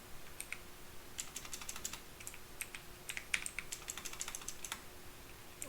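Steady, fairly quiet keyboard typing while Java code is entered on a computer, with rapid irregular clusters of keystrokes and no talking.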